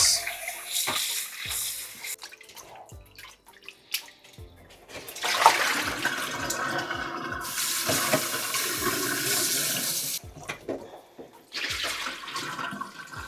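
Chicken pieces for escovitch chicken rinsed under a running kitchen tap, with gushing water and splashing that rises and falls in bursts, close by, plus some handling knocks.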